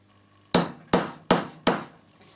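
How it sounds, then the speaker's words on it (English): A hammer strikes a metal hole-punch cutter four times in quick succession, each blow a sharp, close crack that rings briefly and decays before the next, with no talking over it. "the first thing you do is get your hammer"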